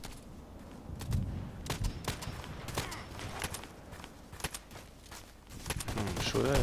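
Unsilenced sniper rifle shots in a first-person shooter video game: several sharp, loud cracks spaced irregularly, mixed with scattered distant gunfire and footsteps in a noisy battlefield ambience.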